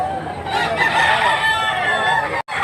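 A 2-kilo stag rooster crows loudly and close in one long, sustained cock-a-doodle-doo, with a brief break near the end.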